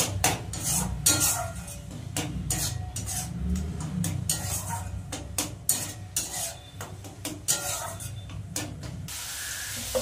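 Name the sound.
mixing stuffed pointed gourd ingredients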